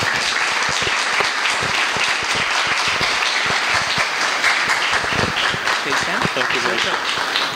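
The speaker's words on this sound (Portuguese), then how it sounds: "com a grande salva de palmas, vamos saudar o nosso palestrante" A lecture audience at a colloquium claps in sustained, dense applause to welcome the guest speaker, loud and continuous throughout with no voices on top.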